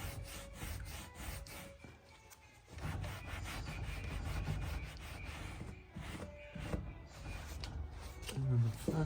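Rubbing old finish off an antique two-door display cabinet with ball-and-claw feet: repeated scraping, rasping strokes on wood, close and fairly loud, with brief talk between strokes.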